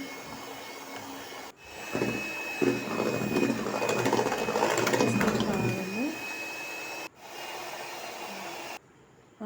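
An electric beater whips cream toward stiff peaks, its motor starting abruptly with a loud, steady whirring whine that runs for several seconds before stopping, then briefly resuming.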